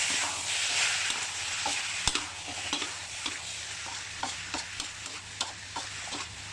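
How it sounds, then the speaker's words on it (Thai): Long beans stir-fried with curry paste, chillies and kaffir lime leaves over high heat in a wok, a steady loud sizzle broken by repeated sharp scrapes and clacks of the spatula stirring. "แล้วก็ใส่ถั่วฝักยาวลงไป ใส่พริกขี้กว้าลงไป แล้วก็ใบมะกรูด ทีนี้ก็ผัดเลย"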